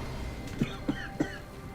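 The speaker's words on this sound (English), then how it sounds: "Excuse me if you are hearing the cough." Three soft, evenly spaced coughs sound close to the microphone over a quiet hum of game audio from the action game The Gunk.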